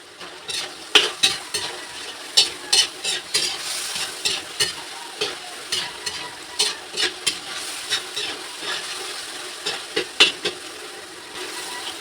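Stir-frying in a pan with liquid seasoning, dried fish and oyster sauce, rhythmic scraping strokes of a spatula repeating about every half second over a steady sizzle, close and alone.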